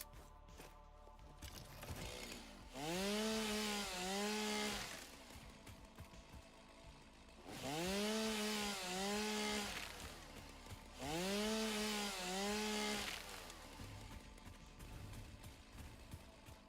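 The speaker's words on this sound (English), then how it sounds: "I'm gonna have to whip out the chainsaw too" Video game chainsaw felling trees in a factory-building game: three separate bursts of loud, close motor whine, each rising and falling in revving pitch over a few seconds, with quieter gaps of background between them.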